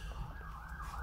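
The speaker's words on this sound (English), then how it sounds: "Sorry, there's an ambulance going past." An ambulance siren wails as it passes by, a faint, rising and falling electronic tone over low traffic rumble.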